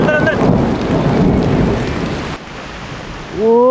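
Heavy rain and a thunderstorm at a deep-forest group campsite: loud, dense rainfall with a rolling rumble of thunder, fading to a quieter hiss before swelling again, with brief voices at the start and end.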